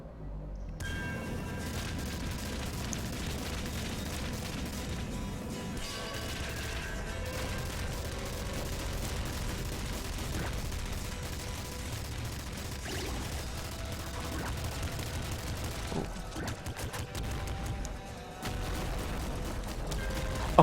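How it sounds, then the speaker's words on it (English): Nuke launcher explosions in the video game Nuclear Throne, a dense, continuous barrage of booming blasts and rumbling mixed with game music, loud and sustained throughout. "Nuke launcher has a great flaw, which is that it actually has such a large explosion radius"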